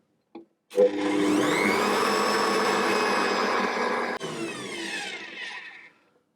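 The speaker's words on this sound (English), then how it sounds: "give those a good whisk until they're fully combined." An Ankarsrum mixer whisks eggs with lemon juice, starting with a click and then a whirring motor hum that stops briefly and resumes before winding down, close and alone without talk.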